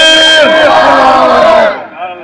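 A large audience at a seminary gathering chants a religious slogan in unison, a loud sustained massed shout lasting over a second before trailing off.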